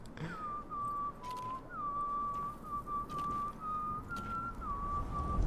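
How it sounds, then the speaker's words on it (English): A character in The Witcher 3: Hearts of Stone whistles a slow, eerie tune in long sustained notes, clear and fairly close over a low ambient game backdrop. "Of course he's going to be whistling that tune."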